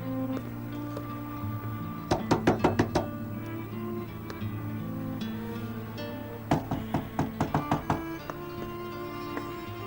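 Knocking on a door in a Turkish drama scene: two bursts of several quick, sharp raps, the first near the start and the second later, heard over a steady music bed.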